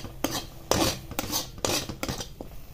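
Cooked carrot halwa scraped and spooned from a pan onto a plate with metal utensils, giving several close, sharp clinks and scrapes spaced over a few seconds, with no talk.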